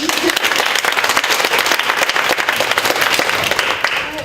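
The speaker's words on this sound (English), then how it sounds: "we'll give them a collective round of applause" An audience at a children's playwriting event applauding steadily, a dense wash of clapping hands that holds at full strength for several seconds before easing slightly at the end.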